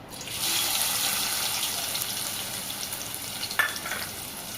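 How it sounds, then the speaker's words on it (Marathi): Steady sizzling of onion frying in hot oil for egg curry, a constant crackling hiss with a brief clatter near the end. "तेलामध्ये मी आता सगळ्यात आधी कांदा घालणार आहे"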